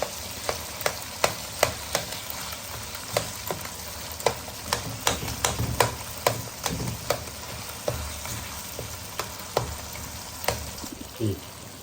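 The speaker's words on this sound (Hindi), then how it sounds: "अब इनको जो है ना मिक्स कर देंगे या आसानी से मैश हो जाएगा" Tomatoes being stirred and mashed in a karahi over low heat, with a steady oil sizzle and repeated sharp scraping clicks of the spoon against the pan at an uneven rhythm, close and clear.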